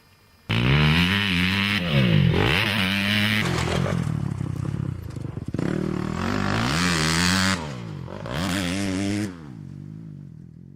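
A motocross motorcycle on a track with jumps, its engine loud and close, revving up and down in repeated surges as it rides, cuts off and lands, with no talk.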